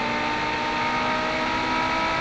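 A Ferrari 599 engine in the driving game BeamNG.drive drones loud and steady, holding a continuous revving tone throughout with no voices over it.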